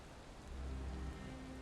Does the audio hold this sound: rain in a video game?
yes